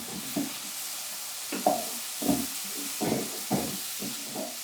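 Tomatoes and masala frying in a pan for chilli chicken give a steady soft sizzle, broken by about seven bursts of stirring and scraping, close and fairly quiet.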